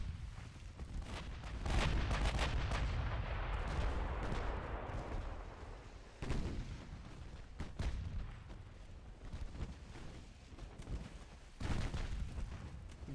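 Secondary guns of warships fire in an Ultimate Admiral Dreadnoughts naval battle, heard as several separate heavy booming volleys with deep rumble between them, spread across about thirteen seconds with no talking.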